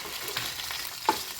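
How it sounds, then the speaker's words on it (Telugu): Onions and curry leaves fry in the same oil used for dried fish, giving a steady close sizzle with faint crackles over about a second and a half. "ఇదే నూనెలోకి ఉల్లిగడ్డలు కరివేపాకు వేసుకున్నామండి"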